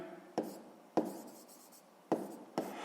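Pen strokes scratch softly across paper while a maths exercise is written out. Four short, sharp touches each give way to brief scratching, spread unevenly over a few seconds.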